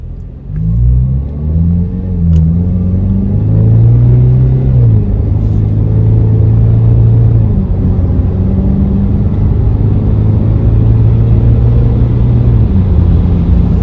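A Ford Maverick drives through racetrack turns, its engine rumbling close and steady inside the cabin. The pitch rises and falls with throttle changes through the curves.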